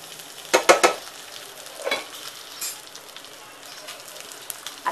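Stuffed green chillies with garlic sizzle softly in a pan, broken by a few scraping stirs and turns in short bursts.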